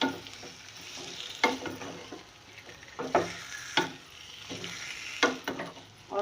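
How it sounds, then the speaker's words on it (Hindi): Chicken sizzles steadily in a hot pan while a utensil stirs and scrapes it in irregular bursts. "ये चिकन मैंने डाल दी, इसे डालकर मैं अच्छी तरह मिक्स कर दूँगी।"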